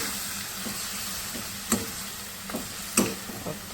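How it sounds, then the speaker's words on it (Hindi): Chicken pieces coated in garlic-ginger paste sizzle steadily in a pan, with a few sharp clicks of a spoon stirring and turning them, close and continuous. "अब मैं इसको 5 मिनट तक भूनूँगी"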